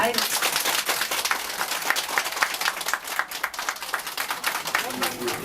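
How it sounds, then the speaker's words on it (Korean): Crowd applause at a visit to a typhoon-damaged site in Nonsan, a steady dense clatter of many hands clapping close by for several seconds, with voices faintly underneath. "박수 한번 치세요."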